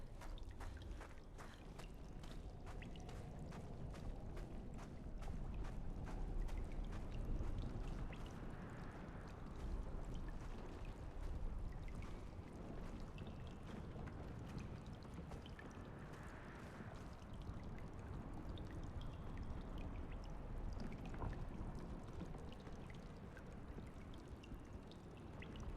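Ambient game soundscape with golden spectral waves of chroma, a steady rushing, flowing wash like streaming or pouring water, with faint tinkling highs, holding a constant moderate level throughout without talk.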